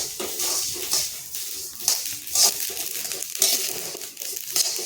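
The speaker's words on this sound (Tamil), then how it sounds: "நல்லா பொரிஞ்சு வருது பாருங்க." Mustard and cumin seeds dry-roasting in a pan crackle and pop in loud, irregular bursts, close by and with no voices.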